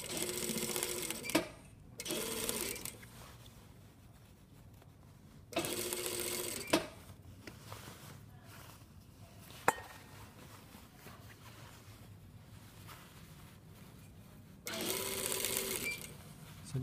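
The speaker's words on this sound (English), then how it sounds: "And you're sewing just on the other side of the easing stitch so that you don't see that." Sewing machine stitching a shirt sleeve into the armhole at a 1 cm seam, running in several loud bursts of rapid whirring separated by quiet pauses with light handling noise.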